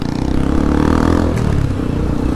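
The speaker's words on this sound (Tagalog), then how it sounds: "Merong motor na malakas yung pipe sa harap natin" Loud motorcycle with a loud aftermarket exhaust pipe running just ahead of a Yamaha Aerox 155 V2 scooter, its engine drone and rumble steady and close over wind and road noise from an open-visor ride in traffic.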